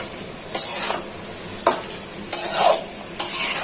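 Tiger prawns with large vegetable stalks and green chillies being stir-fried in a pan: four distinct scraping stirs break through a steady low sizzle, close and fairly loud, with no voices.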